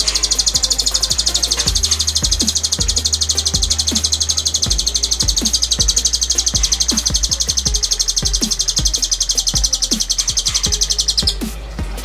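Anggun, a lovebird with a cililin-style song fill, sings a loud, near, unbroken high trill laced with quick sharp chirps for about eleven seconds before it suddenly cuts off.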